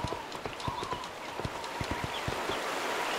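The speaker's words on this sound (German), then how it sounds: "da kommt aber ein Pferd an" Horse hooves clip-clop in a quick, even rhythm in the video game Go Vacation, moderately close over a steady bright background hiss.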